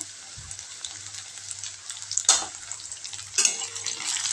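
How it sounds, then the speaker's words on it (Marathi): Potato and cowpea pods stir-frying in hot oil in a pan, a bright steady sizzle broken by two louder bursts as the vegetables are tossed, with light clinks of a spoon against the pan. "आणि छान असं तेलामध्ये परतून घ्यायचं"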